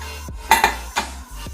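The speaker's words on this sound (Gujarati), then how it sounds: "તો હવે આપણે કુકર ખોલીને જોઈ લઈએ" A pressure cooker of dal khichdi is opened after one whistle, giving two quick metallic clanks of the lid followed by a softer knock, close by with no talk.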